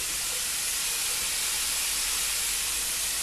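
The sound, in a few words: electric fry pan hissing as it heats up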